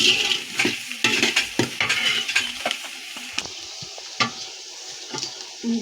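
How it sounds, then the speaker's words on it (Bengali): Green chillies, onion and whole spices frying in oil for tehari, with a close sizzle broken by repeated clinks and scrapes of a spoon against the pot that come in quick bursts, then thin out. "এর মধ্যে দিচ্ছি আমি কাঁচামরিচ পেঁয়াজ গরম মশলা তারপর শাহিজিরা দিয়ে ভেজে নিব"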